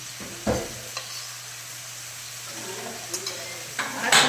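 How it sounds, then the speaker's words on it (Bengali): Raisins frying in hot oil in a pan for fried rice, a steady soft sizzle with a few stirring scrapes and clinks, close and alone. "আর কিশমিশগুলো ভেজে নেব।"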